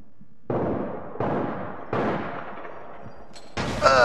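Gunfire in APB Reloaded rings out in several separate bursts with short gaps between them, loud and close, ending in a sharper, brighter volley.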